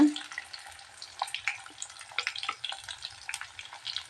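Onion and spices frying in a hot pan for a banana-flower kofta gravy, a steady soft sizzle with scattered crackles and light stirring scrapes, close and continuous with no voices.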